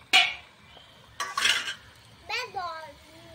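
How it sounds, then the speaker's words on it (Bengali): A metal lid is set onto a cooking pot of meat on the stove, giving a few sharp clanks and scraping rattles in a quick cluster, then a softer ringing clatter as it settles. "এই যে আমি ঢাকনাটা দিয়ে ঢেকে দিই"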